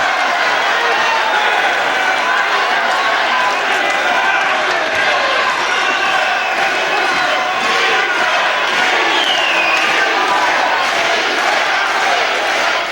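A packed crowd at a British professional wrestling show roars and cheers continuously, a dense, loud wall of shouting and yelling that never lets up.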